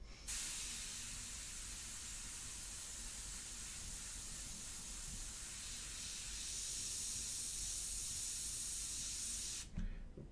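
An airbrush sprays India ink for a portrait painting, giving a steady, close hiss that runs without a break for about ten seconds and then cuts off sharply near the end.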